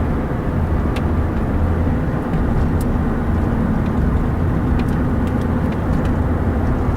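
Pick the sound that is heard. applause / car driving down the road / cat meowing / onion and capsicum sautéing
car driving down the road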